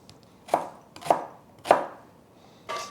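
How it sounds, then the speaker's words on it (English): A knife slices a red onion into thin half moons on a cutting board, with three crisp, evenly spaced chops close by and a fourth, softer cut at the end, no talking. "I'm going to cut the onion into thin half moons."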